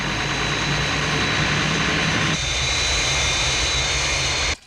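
The Fireflash airliner's jet engines roar steadily on landing approach, a loud continuous rushing whine that shifts to a thinner tone partway through before cutting off abruptly at the end.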